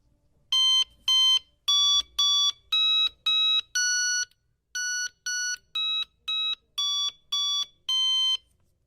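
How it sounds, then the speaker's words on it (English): An NE555 electronic piano circuit plays a series of sharp, clean electronic tones through a small speaker, about thirteen distinct beeps at varying pitches in two quick runs with a short pause between, heard alone. "the electronic piano circuit is now ready"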